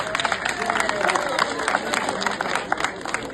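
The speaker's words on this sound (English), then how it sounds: "I think the president deserves a round of applause." An audience applauds the president with dense, continuous clapping that stays fairly loud and even across the whole stretch, with a faint crowd murmur underneath.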